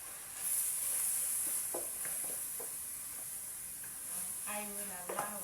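Beef added to a pan of garlic and ginger for a mushroom pasta Bolognese sizzles steadily with a bright hiss, broken by occasional scraping stirs, moderately close and without talk.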